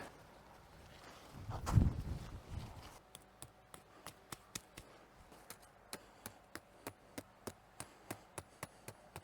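Landscape spikes are hammered through fabric into the ground for a backyard golf bunker, giving a steady run of sharp, evenly spaced strikes, close and clear, after a brief rustling burst.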